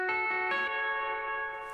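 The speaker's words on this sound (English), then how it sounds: "Let me turn on my reverb. I think that'll make it sound extra nice and spacey." Sustained chords ring out from an electric guitar with reverb switched on, a few strummed attacks in quick succession that then hang and slowly decay with a spacious, lingering tail.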